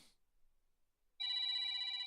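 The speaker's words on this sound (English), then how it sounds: "so I switched it to that 80s phone ringtone thing" A phone alarm set to an old-style 1980s telephone ringtone starts abruptly after a short quiet gap and rings steadily, a shrill trilling bell that sounds close and clear.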